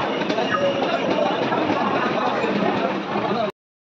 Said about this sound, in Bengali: ট্রেন ছেড়ে দিয়েছে দেখতে পাচ্ছ